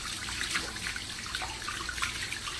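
Water from a running tap splashes over a French lace hairpiece being wetted, a steady close rush of flow with small splashes, no talking.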